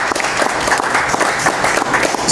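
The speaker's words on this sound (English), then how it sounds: "How about a big round of applause for Harrison Ridley Jr." Brief, lively applause from an audience honoring a jazz historian, dense clapping heard up close and sustained the whole time.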